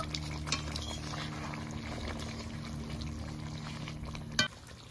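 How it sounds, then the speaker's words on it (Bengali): A spoon stirs pomfret fish curry in a pan just after ground garam masala paste goes in, giving steady close scraping and gentle bubbling with a sharper clink near the end, no talking. "বেটে রাখা গরম মশলাটা দিয়ে দিয়েছি, একটু নেড়ে চেড়ে নেব।"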